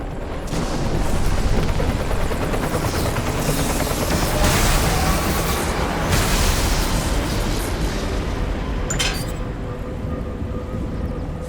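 Helicopters roar with gunfire in the video game Redfall: a dense, loud, continuous rumble with heavy booms and bursts layered throughout, no voices.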